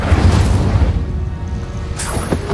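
A loud, dense fiery blast from an Incendio spell in a Harry Potter-style video game: a continuous roaring rumble with a heavy low boom, then a fresh crackling surge near the end, with no talk.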